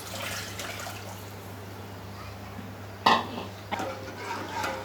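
Water from ground masala poured into a simmering curry: quiet background, then a sudden splashing pour and a second shorter gush of liquid, close by.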